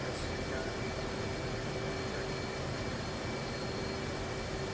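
A military jet taxis to the runway in a flight game, giving a steady, faint engine drone with a constant whine and no change in level.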